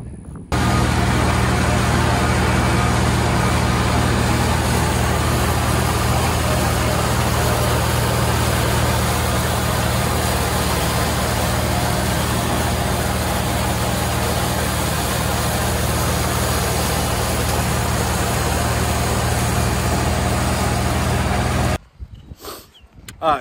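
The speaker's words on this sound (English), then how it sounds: "tractor's showing that it's starting to run a little hot, so I'm just gonna pull it over here" A heavy tractor engine, starting to run hot, idles loudly and steadily at close range, a constant low rumble that cuts off abruptly near the end.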